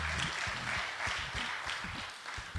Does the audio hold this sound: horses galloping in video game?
no